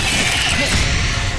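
Confringo blasting spell cast in the video game Hogwarts Legacy, a dense, continuous burst of crackling, grinding magical energy that stays loud and steady throughout.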